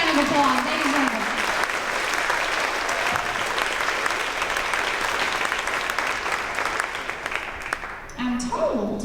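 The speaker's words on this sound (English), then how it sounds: "let's give this group a big round of applause" Loud, sustained applause from an audience at a second grade promotion ceremony, dense clapping holding steady for several seconds before thinning out near the end.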